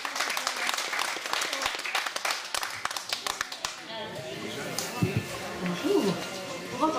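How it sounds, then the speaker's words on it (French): An audience at a village flea-market show in Baudres applauds its local star: dense clapping for about four seconds, then it fades into scattered claps with voices murmuring underneath. "vous allez applaudir notre vedette locale, s'il vous plaît"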